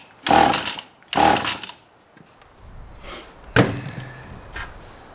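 A dry chainsaw being pull-started without the choke: two strong, sharp rasping pulls of the starter cord close by, followed by weaker pull and rattle sounds; the engine does not catch.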